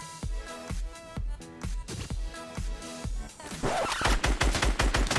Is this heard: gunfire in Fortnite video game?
yes